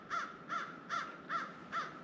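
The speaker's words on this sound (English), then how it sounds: "I hear a crow calling." A crow caws five times in a steady, evenly spaced series, each call harsh and mid-distance, over a soft outdoor background with no voices.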